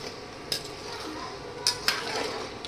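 Peanuts fry in hot oil in a pan for a fasting snack, giving a steady sizzling hiss with a few sharp clinks of a spoon against the pan as they are stirred, with no voices.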